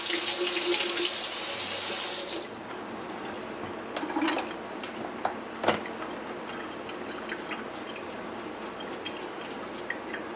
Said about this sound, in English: Now I'll really douse it in soap and water.